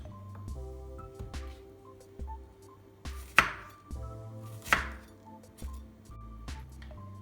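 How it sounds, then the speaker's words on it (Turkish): Sparse knife chops on a cutting board as onions are finely cut, a few sharp knocks standing out over faint background music, no talking. "Daha sonra soğanlarımızı ince ince kesmeye başlıyoruz."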